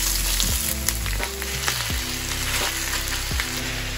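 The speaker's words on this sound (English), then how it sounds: "now we can add the meat." Minced meat and onion fry in a pan for Filipino lasagna, a dense, loud sizzle close up, with spatula scrapes and stirring knocks at intervals, no voices.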